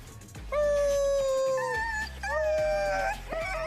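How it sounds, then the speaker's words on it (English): A pack of many dogs howling together, long rising and falling wails layered over one another, loud and close, with brief dips between bursts. "That's a lot of dogs."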